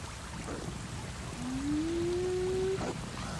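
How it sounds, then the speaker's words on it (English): A single drawn-out, rising wolf-like howl from a Pandora pack hunter in a video game rainforest, heard moderately close over a steady rushing, rain-like ambience with no speech. "So you can hear them, they have like those wolf-like howls"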